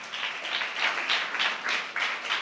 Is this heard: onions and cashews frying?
no